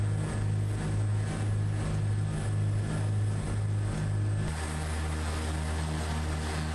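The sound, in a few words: aircraft engine in Microsoft Flight Simulator 2024 video game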